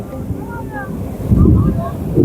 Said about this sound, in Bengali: বিশালভাবে সমুদ্রের ঢেউ রয়েছে